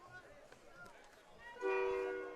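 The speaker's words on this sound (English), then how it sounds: "Here we go. There's the horn." A stadium air horn blares at a high school football state semifinal, a loud sustained tonal blast that starts suddenly and holds steady to the end, following a stretch of quieter crowd murmur and talk.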